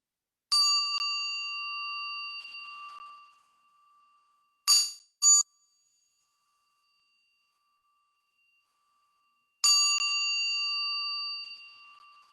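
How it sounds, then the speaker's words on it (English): A meditation bell rings clearly and fades slowly, followed by two quick lighter strikes, then another long ringing tone in silence. "Let's listen again to the sound of our bell."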